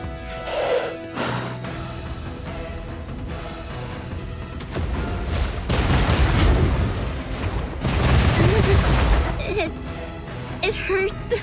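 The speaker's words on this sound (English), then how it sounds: "God, those missiles are annoying" Missiles fire and explode in Punishing Gray Raven, with heavy booms and rumbling blasts building through the second half amid dense battle effects. A player talks and gasps over the combat.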